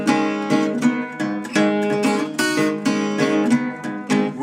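Solo guitar plays a blues lick, with repeated plucked notes and strummed chords in a steady, rhythmic phrase. It sounds close and fairly loud, with no voice.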